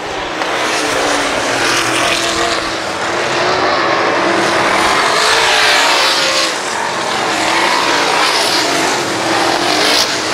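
Race cars at Valley Speedway in the season's last races roar around the oval. The engine noise is loud, continuous and dense, swelling slightly as the cars sweep past, with no clear voices.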